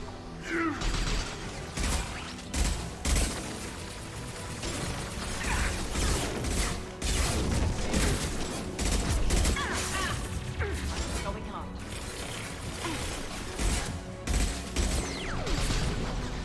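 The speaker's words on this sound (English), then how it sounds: "Such a satisfying thumping noise from the Vindicator" Vindicator battle rifle firing in Mass Effect 2, a run of heavy thumping bursts with clanks and impacts over dense game combat noise, steady and loud throughout.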